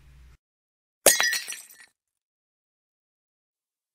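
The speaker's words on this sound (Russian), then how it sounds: "Ваза для принцессы падает с полки – переворачивается в воздухе и разбивается на тысячу осколков" A porcelain vase falls from a shelf and shatters in one sharp, close crash, with a scatter of shards settling for under a second before silence.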